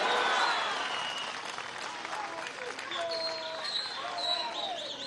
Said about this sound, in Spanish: Un aplauso a la Fuerza Armada Nacional Bolivariana.